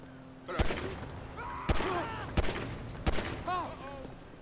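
Gunfire in GTA V, four sharp loud shots spaced about a second apart, with brief metallic ringing tails and a faint voice between them.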